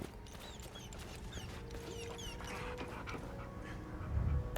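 A dog in the video game Hell is Us pants and whimpers softly amid light ambient game sounds, the breathy panting steady throughout before a low thump near the end.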